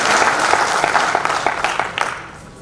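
Loud applause from a hall full of delegates at a district employment workers' convention, crisp close claps in a busy rhythm that gradually fade toward the end.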